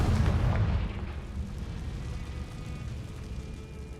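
A Confringo explosive spell in Hogwarts Legacy, a heavy booming blast that rolls off into a long rumbling decay.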